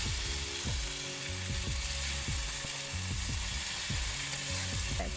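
Tomato and cashew paste sizzles loudly in hot oil for a tempering, a steady close crackle throughout with repeated low knocking sounds running through it.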